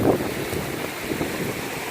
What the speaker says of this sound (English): Hella windy in Vegas.